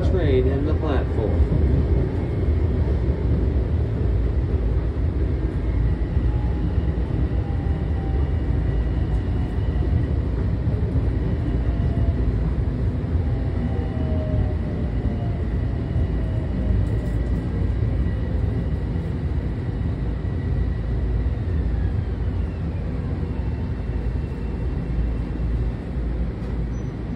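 A commuter train pulls into Rockville Centre station, with a loud continuous rumble and whining tones that slide downward as it slows over nearly half a minute, while a voice talks over the noise.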